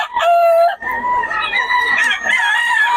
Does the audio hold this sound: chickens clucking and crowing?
yes